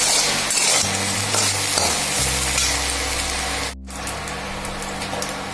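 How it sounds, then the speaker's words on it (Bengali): Cumin seeds and dried red chillies tempering in hot oil, a steady loud sizzle with some stirring, briefly cut to near-silence for a moment before the frying hiss resumes at a slightly lower level, with a low hum underneath. "তেলে জিরে আর হচ্ছে শুকনো লঙ্কা ফোড়ন দিয়েছি"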